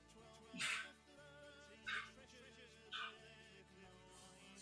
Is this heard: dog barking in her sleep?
yes